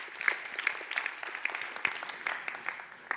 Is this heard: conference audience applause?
yes